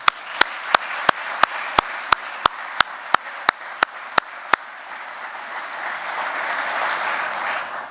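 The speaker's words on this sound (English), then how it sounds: "please join me and give me a big round of applause for those employers that are here today" Audience applause at an ESGR award ceremony honoring employers who support military reservists, opening with a steady run of loud, evenly spaced single claps near the microphone before swelling into sustained, broad crowd clapping.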